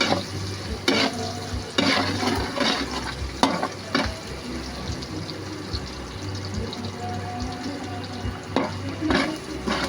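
Garlic frying in a pan, with a steady sizzle broken by repeated stirring scrapes and clatters of a utensil against the pan, close and fairly loud throughout.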